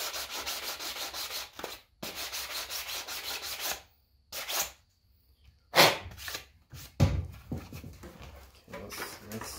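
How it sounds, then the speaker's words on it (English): A 3D printed Darth Vader costume part rubbed with a small sanding block, gritty scraping strokes in bursts separated by short pauses, close and fairly quiet. "But this little sanding block works great too."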